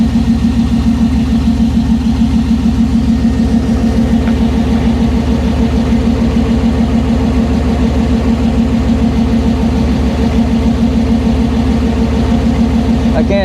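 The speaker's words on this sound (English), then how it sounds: "I'm pretty happy with the exhaust. Seems to sound pretty good. Motor sounds pretty healthy." A car engine fitted with Aces Jackpot 2 fuel injection idles steadily through its exhaust on first start, a loud, even low rumble with a fast regular pulse that holds unbroken throughout.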